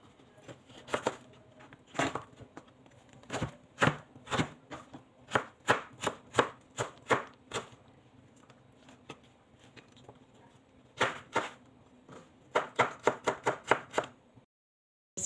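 Vegetables such as capsicum, carrot and onion chopped with a knife on a board, crisp close knocks in quick irregular bursts, some rapid runs separated by short pauses, with no talk.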